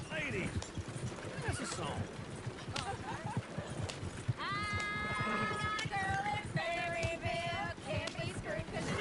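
Horse whinnies with harmonic calls at about 4.5 and 7 seconds, plus clip-clopping hooves, in Red Dead Redemption 2, set against busy game ambience and talk.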